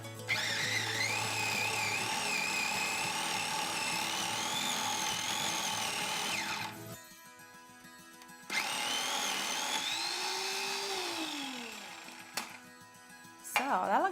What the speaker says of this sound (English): we're going to try to grind this up and make it fairly smooth first